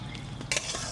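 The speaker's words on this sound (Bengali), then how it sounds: "জলটা ফুটতেছে" Water boils in a cooking pot with pumpkin vine stalks in it: a steady close bubbling hiss with a brief louder clatter midway, and no voices.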